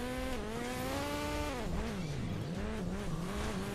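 A motorbike races in the video game Hill Climb Racing 2, its engine whining steadily and rising and falling in pitch as it revs, with a squealing, skidding edge and no talking.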